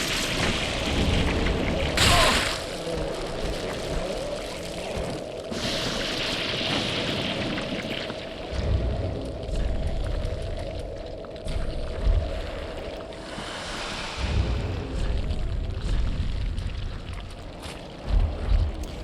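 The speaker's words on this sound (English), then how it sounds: "More fire bombs." Fire bomb explosions in the Dark Souls III video game, a few dull booms and bursts scattered across a rumbling, noisy fight ambience, moderately loud with no speech over them.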